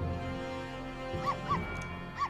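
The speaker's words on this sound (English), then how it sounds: "Woof, woof, woof," Dog sound effects from the video game Professor Layton vs Ace Attorney: a few short, high yips or whimpers spaced apart over a steady musical background, with no talking.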